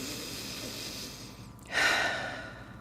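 A single deep breath taken during a guided meditation, a soft, close inhale-exhale rising briefly and fading, heard alone in a quiet setting.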